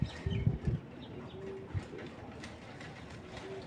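A racing pigeon coos close by in a few low throaty bursts near the start, then a quieter coo later over a faint background hum.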